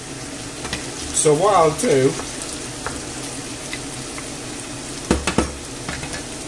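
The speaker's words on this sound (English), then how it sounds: "It's nicely boiling away." Spanish omelette ingredients sizzle and fry in a covered pan, a steady close crackle that runs throughout, with a voice speaking briefly over it and a couple of louder stirring clatters.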